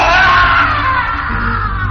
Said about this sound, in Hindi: उनके चीखने की आवाज इस बार घर के गार्डन से आ रही थी